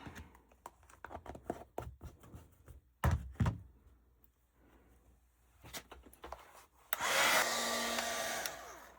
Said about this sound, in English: So I'm going to put my heat gun on there and hope it doesn't take too long.